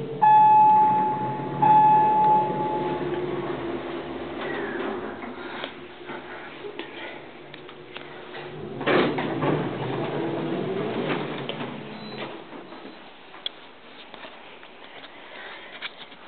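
Inside a 1970s Montgomery elevator cab riding down, a steady low mechanical hum and rumble carries with occasional clunks, a brief electronic tone near the start, and faint creaks as the car travels.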